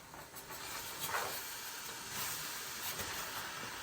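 Liberian potato greens frying in a covered pan give a steady, soft sizzling hiss that holds evenly throughout, with no talking over it.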